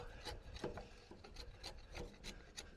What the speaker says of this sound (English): Good sharp chisel always helps, Jason.